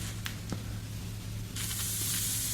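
A small rubber bulb pump purges a fountain pen: faint airy hisses and a couple of brief squirts, then a louder, steady spray-like hiss near the end, all fairly quiet and close.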